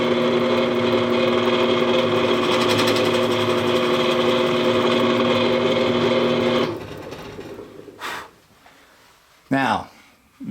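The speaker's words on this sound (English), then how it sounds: "this thing will always drill your pilot hole and your countersink to the exact depth that you like" Drill press whining steadily for several seconds as it bores a pilot hole and countersink, then stopping; a couple of short bumps and a brief rising whir follow, and someone talks through it.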